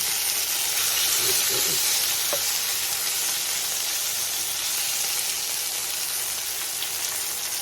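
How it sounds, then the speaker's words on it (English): Turkey pieces sear in a hot pan for teriyaki, giving a steady, close sizzle and frying hiss that holds evenly throughout with no talk over it. "it ensures that the meat is cooked through and through, so that the turkey is nicely seared on all sides"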